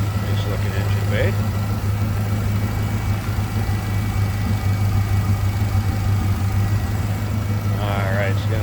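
A 1929 Ford Model A Roadster pickup street rod idles steadily nearby, a constant low throbbing hum with a few brief squeaky sounds on top, even and unbroken.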